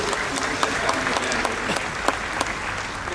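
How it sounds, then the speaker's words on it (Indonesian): An audience applauds the press community at a national Press Day ceremony with dense, lively clapping, sharp individual claps standing out from a steady roar that stays even and close throughout. "mari kita tepuk tangan untuk masyarakat pers yang telah ikut mensukseskan media"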